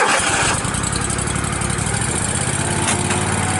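A 2007 Exmark Lazer 60-inch UltraCut zero-turn mower with a 27HP Kohler engine cranks and catches, then settles into a steady, loud, close-up idle rumble with no talking.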